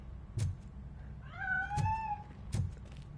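An escaping cat in the video game RoboCop: Rogue City gives one drawn-out, wavering meow, clear and fairly close, between three short thuds or footsteps.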